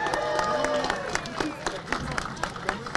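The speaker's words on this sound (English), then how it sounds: "how about a big round of applause" A crowd gathered outdoors for an evening tree lighting claps and cheers, a dense burst of applause that is loudest at first and then thins into scattered claps with chatter underneath.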